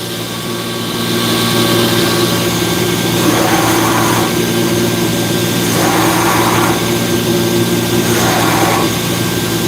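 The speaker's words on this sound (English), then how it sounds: "you end up at the grinder here to finish it or complete processes that can't be done with forging." A belt grinder runs loud and close, working a steel Buckthorn knife blade, with a steady whine and several surging passes as the steel is pressed against it.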